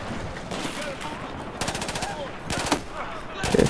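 Automatic gunfire in Battlefield 4 aimed at the player, with rapid bursts of shots breaking out in several close, loud volleys over a busy game-battle background.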